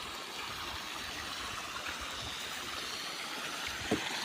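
Water pours steadily into a maize field with a continuous close rushing wash and one small splash near the end.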